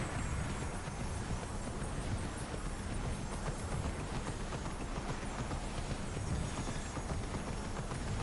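Horse hooves clip-clop steadily as a rider crosses open country in the video game Immortals Fenyx Rising, a continuous rhythmic trotting under a dense layer of game ambience.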